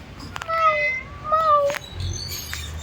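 A pet cat meows twice in drawn-out calls, close by, with a short third sound after, followed by low rumbling background noise in a building lift.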